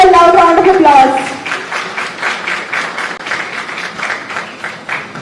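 At an honoring ceremony after a law lecture, a voice is briefly heard, then an audience breaks into steady applause, a dense, even clatter of many hands that continues for about four seconds.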